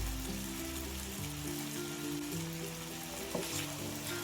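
Potatoes fry in a pan over a full gas flame with a steady, dense sizzle and crackle, close and continuous, with a faint tonal hum underneath.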